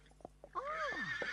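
Cartoon horse gives a short, rising-then-falling whinny after a few soft clip-clop taps, close and clear against a quiet background.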